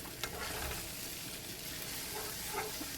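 Mung bean sprouts and spring onion sizzle in a hot frying pan with curry yakisoba, a steady crackling hiss of frying with occasional soft stirring scrapes, fairly quiet and uninterrupted.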